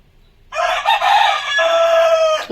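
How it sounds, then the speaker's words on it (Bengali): A domestic rooster crows loudly and close by in a single sustained call, standing alone against a quiet background at a home where biryani is being cooked. "ঘরের মুরগি ওদিকে ডাক দিচ্ছে"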